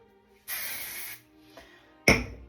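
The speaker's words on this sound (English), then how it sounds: "I'm going to spray it a little bit everywhere" A steady hissing spray burst lasting under a second, then a brief faint puff and a sharper short spray, close and alone.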